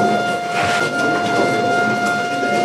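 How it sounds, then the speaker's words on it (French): A siren signalling the 8 a.m. start of the BEPC exam in Abomey-Calavi wails with a steady sustained tone over broad outdoor noise, loud and continuous. "Voilà le geste qui accompagne la sirène qui retentit à 8h00."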